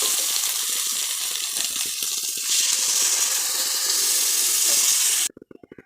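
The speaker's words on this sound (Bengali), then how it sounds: "মশলা কষানো হয়ে গেছে, জল দেবো।" Water poured into a pan of sizzling spice paste for a small rohu-type fish curry, giving a steady loud hiss and gush of steam that runs continuously for about five seconds before cutting off, leaving faint clatter.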